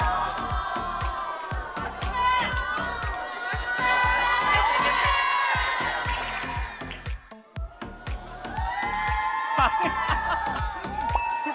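A crowd at a one-day pop-up café cheers and whoops loudly in two long swells, with excited shouting and scattered claps running through it and a brief lull between the bursts.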